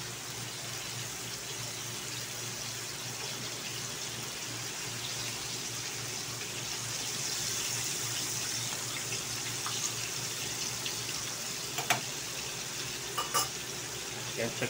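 Garlic frying in a pan, a steady close sizzle that holds evenly throughout, with a few small clinks near the end and no speech.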